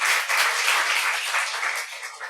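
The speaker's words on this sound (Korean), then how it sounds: "말씀 주실 하나님께 박수 한번 드립니다." Church congregation applauding before a Sunday sermon, a steady wash of many hands clapping together for about two seconds, moderately loud and fairly close, with no talk over it.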